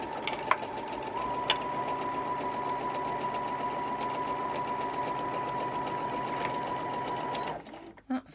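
A sewing machine stitches a rainbow quilt with a steady, continuous rapid hum and whir, close and even for about seven seconds before stopping.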